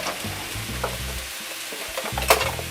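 Food browns in a hot pan and gets tossed with a spatula, a steady close sizzle broken by scraping stirs and a sharp clatter near the end, with no voices.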